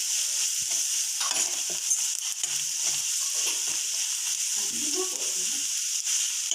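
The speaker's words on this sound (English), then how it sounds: "Mix them well." A constant bright frying hiss fills the pan as masala with chili powder and coriander powder is stirred, with soft scraping movements beneath and no speech.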